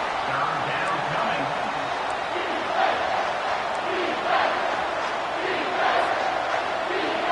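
Stadium crowd roaring in the NCAA 25 college football video game during a third-down defensive stand, a steady wall of cheering with swelling surges beneath play-by-play commentary.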